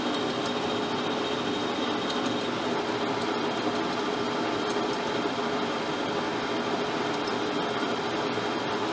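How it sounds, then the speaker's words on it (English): A lathe lightly skimming the thread tops on a Savage 110 rifle barrel, a steady even machine hum and hiss with a faint, barely changing cutting wisp throughout, no voices. "And just barely wisp the tops of these threads off to 0"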